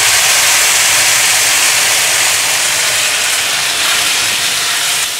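Spice paste sizzles loudly as it hits frying taro (arbi) in a pan, a steady, dense hiss that holds without a break from start to finish.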